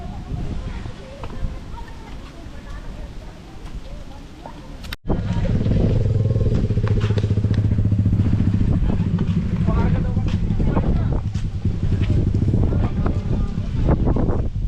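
A motorcycle engine drones nearby amid strong wind noise by a lake in the Philippines, its steady hum continuing for several seconds while people talk over it.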